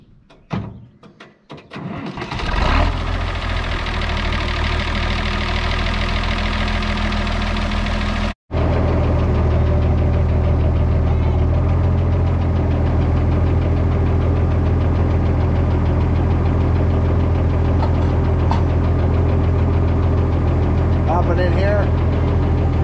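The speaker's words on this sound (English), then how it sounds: "we'll get the tractor fired up and get hooked up." A tractor's engine cranks briefly, catches, and settles into a loud, steady diesel rumble with a knocking chug, running close by without stopping.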